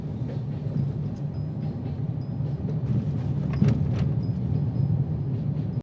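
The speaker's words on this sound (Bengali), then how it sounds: "ফারাক্কা ব্রিজে যেতে যেতে আমরা একটা ট্রেনও দেখতে পেয়ে গেলাম।" A train passes near the Farakka bridge, heard from a car on the road, as a steady, continuous rumble and rattle of wagons with faint high squeals over it.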